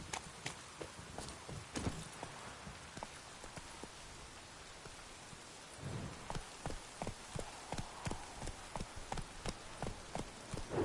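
Roach, a horse in The Witcher 3, gallops with faint hoofbeats at first under steady rain-like noise, then the steps grow into a regular, more distinct pounding rhythm in the second half.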